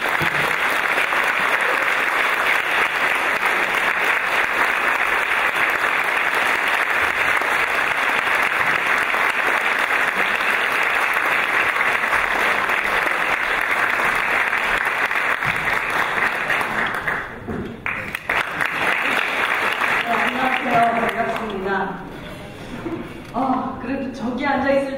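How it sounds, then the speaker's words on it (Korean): An indoor audience at a Korean talk event gives a long, loud, dense round of clapping. The applause fades out and then a speaker begins talking. "큰 박수 부탁드립니다."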